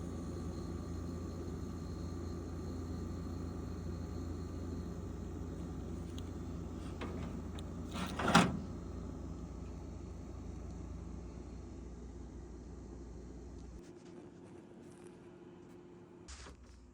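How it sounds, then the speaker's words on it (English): A Frigidaire refrigerator compressor runs with a steady, quiet low hum and faint tonal whine, interrupted once by a sharp click midway, before the low drone drops away near the end. "as soon as we plug it in, you'll hear the compressor"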